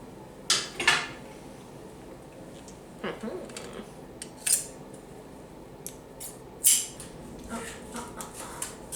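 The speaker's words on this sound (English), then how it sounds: "this cardboard is quite thick. I should have gotten bigger scissors." Scissors crunch and snip through stiff cardboard in irregular bursts, a few sharp cuts spaced apart with quiet pauses between.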